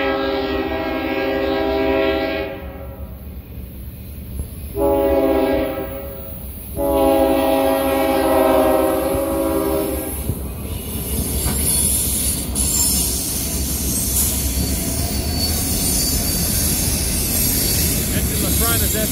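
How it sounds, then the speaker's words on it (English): A diesel freight train's horn blasts in long sustained tones, then a heavy rumbling passage of rail cars, led by EMD SD45 and SD60 locomotives, builds and continues loudly with clanking and roaring noise. "we got a train coming"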